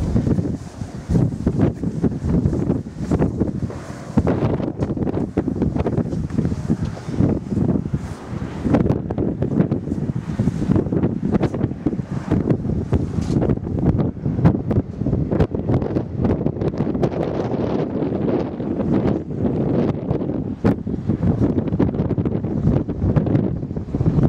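Strong wind buffets the microphone outdoors in an exposed spot, a loud, steady roar with constant gusting rumble across the whole stretch and no voices.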